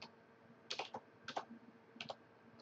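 Quiet keystrokes on a computer keyboard while entering a value in editing software: a few short clusters of light clicks with pauses between them, close and soft.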